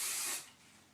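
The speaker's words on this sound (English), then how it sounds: "Hairspray haze going on." A short, close burst of hairspray from an aerosol can sprayed onto hair while it is being curled, loud at first and then tapering off into a soft residual hiss.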